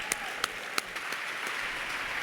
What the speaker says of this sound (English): Please give yourselves a big round of applause.